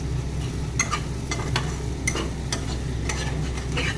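Dry fish stirred in a hot pan, a steady sizzle broken by repeated sharp scraping strokes of a spatula about every half second, close and alone.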